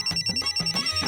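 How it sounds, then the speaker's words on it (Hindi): A telephone ringtone chirps in a quick repeating electronic pattern, close and clear, inside a home with no talk over it. "आपके भैया का फोन है, क्या करे?"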